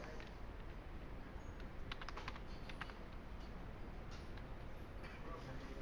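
Rapid clicking of computer keys during data entry, soft and fairly steady with short bursts of keystrokes under a constant background hiss.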